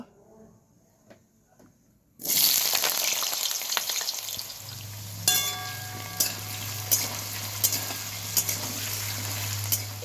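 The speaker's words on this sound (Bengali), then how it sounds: "সেই আলুগুলো আমি এবার তেলে ভেজে নেব" Diced potatoes drop into hot mustard oil in a kadai and burst into a loud, steady sizzle after a quiet start, with occasional clinks of stirring over the continuous frying.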